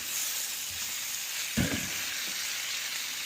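Stuffed eggplant and potatoes fry in a pan with a steady, soft sizzle and hiss, broken by one brief louder stir or shift near the middle.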